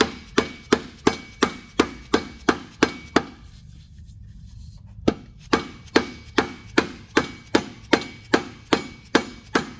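A hammer strikes a socket to drive a gear onto the engine shaft of a BMW E30. The metallic blows land loud and close in a steady rhythm, pause for about two seconds, then resume at the same even pace.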